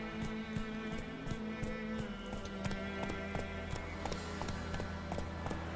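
Roach, Geralt's horse in The Witcher 3, gallops with a steady, rapid clip-clop of hooves that stays close and continuous, over a low background hum.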